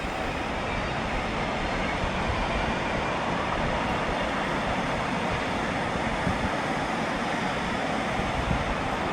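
A Northern train pulls out of a platform at Stockport station in wind and rain, giving a steady, broad rumble and hiss that holds a constant level throughout, with no voices.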